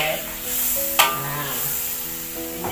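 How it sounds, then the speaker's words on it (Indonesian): Spice paste stir-fried in a pan for a spicy Javanese grilled chicken dish, giving a continuous close sizzle with a sharp scrape or clink of the utensil against the pan partway through. "ini bumbunya digongso, guys. Goreng sampai agak sat."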